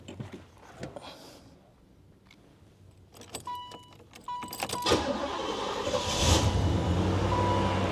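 A 1989 Chevrolet Caprice Brougham with a 305 V8 starts up: jangling keys and a few clicks and chimes, then a cranking catch and a steady, close idle rumble that continues to the end.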